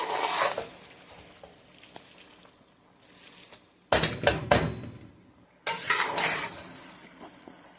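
Chicken is stirred into vermicelli in a pan with scraping and clattering, some heavier thumps in the middle and a faint sizzle underneath, all close and fairly loud with no talking.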